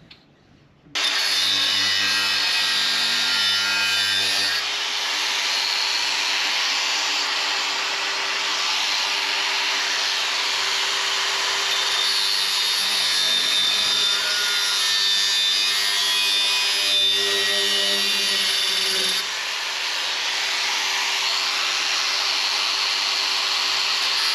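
An angle grinder on a boat hull: a loud, continuous grinding whine runs almost unbroken for over twenty seconds, its pitch wavering slightly as the tool bites and eases, with no talking.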